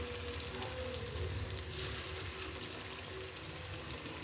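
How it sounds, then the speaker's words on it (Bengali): Banana kofta fries in a wok over medium heat, giving a continuous, fairly loud sizzle and crackle with no voices. "কড়াইয়ে ছেড়ে দেওয়ার পর ভেজে নেব ভালো করে,"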